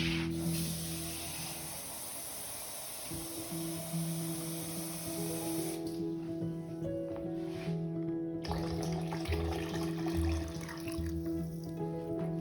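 Water poured steadily into a container for making coconut milk, a continuous close splashing and trickling stream with shifting tone as the vessel fills.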